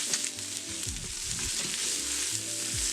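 Onions and other ingredients for egg biryani sauté in a pan with a continuous, close sizzle and hiss, a few soft stirring movements underneath, no talking.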